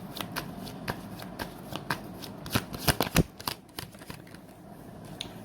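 Tarot cards being shuffled by hand in repeated quick riffles and slaps, close and fairly quiet, with a denser burst of card snaps near the middle and no talking over it.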